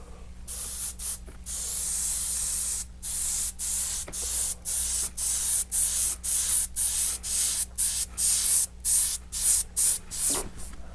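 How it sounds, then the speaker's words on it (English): A spray can mists white paint over a painted background: one long hiss, then a rapid string of short, close, evenly spaced bursts, each a loud airy spray. "I'm just going to add a fine mist of white over top the background"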